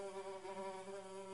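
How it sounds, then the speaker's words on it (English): A single housefly buzzes steadily and close, its wing drone holding a constant pitch with slight wavering throughout, with no other sounds present. "It's a great recording actually of a fly."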